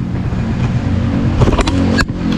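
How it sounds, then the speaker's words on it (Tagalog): A 2024 Suzuki Smash 115 motorcycle idles up close, its engine a steady, quiet, low hum with a few light mechanical clicks near the end. "Maandar na yan, pero napakatahimik talaga sadya ng kanyang makina."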